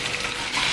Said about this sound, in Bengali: ভেজে নিচ্ছি মশলাগুলো আলুর সাথে